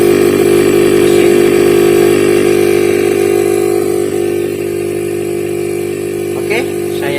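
A previously stuck refrigerator compressor runs on a repair bench, giving a loud, steady mechanical hum with strong tonal drone that continues evenly throughout.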